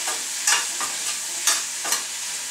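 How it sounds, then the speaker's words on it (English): Onions sauteing in a pan with salt and pepper, a steady close sizzle broken by a spatula stirring and scraping about once a second. "While my onions are sauteing"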